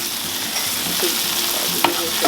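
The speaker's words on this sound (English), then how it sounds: "Now I'm gonna add the kale stem. Saute that in there." Kale stems sautéing in a pan for garden pesto pasta give a steady close sizzle, with a few sharp scrapes and clinks of a wooden spoon stirring them about.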